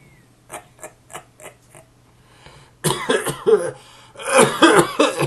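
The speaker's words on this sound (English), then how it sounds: "I think I'm coughing along up here." A series of short, evenly spaced clicks leads into a few harsh coughs, followed by a louder, rougher burst of coughing close by.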